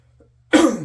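A single sharp cough bursts out after a half-second of near silence, loud and close, with a breathy tail that fades.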